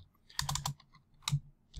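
Fingers tapping on a computer keyboard in short bursts of quick, close clicks separated by brief pauses.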